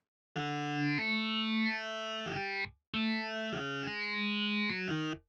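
Two sustained, heavily effected guitar phrases with a wide, ambient cabinet tone and shimmering harmonics, loud and close, separated by a short gap.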